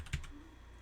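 Keys on a computer keyboard clatter in a short, quiet burst of a few taps over a low steady room hum, with no voices.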